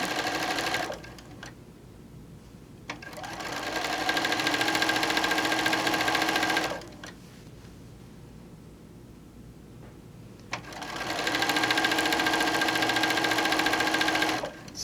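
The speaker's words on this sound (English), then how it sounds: "we're just going to sew down. And we're going to do our 1/4 inch seam." Domestic sewing machine running a quarter-inch quilting seam, steady whirring bursts of stitching that start and stop in three runs with quieter pauses between, close and clear.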